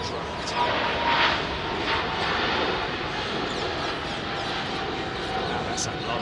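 A heavily loaded DHL cargo jet takes off at London Heathrow: a loud, steady roar of jet engines that fills the whole stretch, heard from a distance, with faint voices over the noise.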